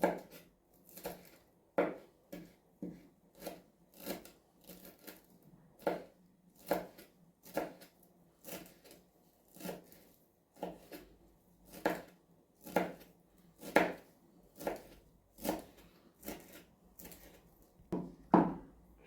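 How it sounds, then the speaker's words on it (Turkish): Steady knife chops on a cutting board as parsley is finely chopped, sharp regular thuds repeating about once per second, close and clear. "Maydanozu da ince ince doğrayalım."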